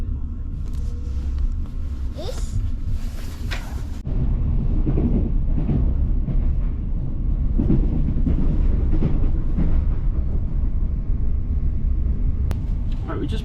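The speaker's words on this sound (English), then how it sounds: "Right, we just boarded the train." Steady low rumble and rattle inside a moving train carriage, with a louder clatter starting partway through and a voice speaking over it.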